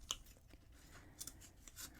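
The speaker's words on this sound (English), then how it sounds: "you're just going to clip these yarn pieces" Scissors clip crocheted yarn fringe pieces on a coaster, giving several faint, sparse snips at irregular intervals against a quiet background.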